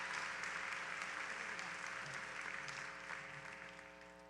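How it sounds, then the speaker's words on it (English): Sustained applause from a college commencement audience honoring students at an awards ceremony, a dense steady wash of clapping that fades slightly toward the end, with a faint electronic hum underneath. "Once again, a round of applause for our honors students."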